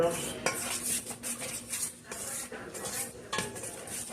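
A utensil scrapes and clinks against a pan while cheesy broccoli and tomato pasta is stirred, with irregular metallic knocks and a faint sizzle underneath, close and fairly quiet, no talking.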